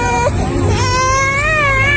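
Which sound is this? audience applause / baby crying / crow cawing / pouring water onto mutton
baby crying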